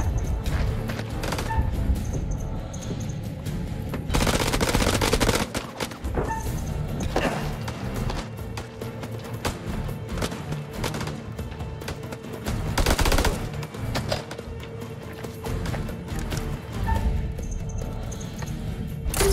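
Gunfire in the horror game House of Ashes, rapid automatic bursts and single shots repeating through the scene, loud and close, with a few distant voices.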